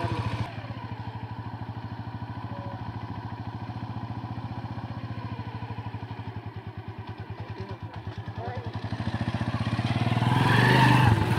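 A motorcycle engine idles with a steady, rapid throbbing pulse, then revs louder near the end as a child learns to ride it carrying 200 kilos of weight indoors in a warehouse.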